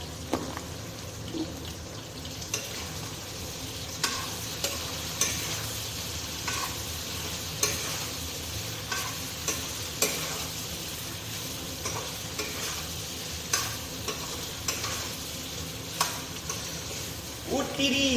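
Pork and potatoes sizzle steadily while frying in a pan, with repeated scraping stirs of a utensil at a loose, irregular rhythm, close up and fairly quiet, no talk.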